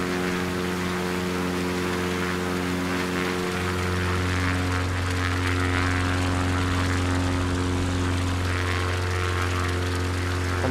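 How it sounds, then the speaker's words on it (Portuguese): A propeller airplane taking off in Microsoft Flight Simulator near Rio Largo, Alagoas, a loud steady engine drone with strong tonal hum that shifts pitch as power builds, continuous and close throughout with no talking. "Estamos decolando aqui"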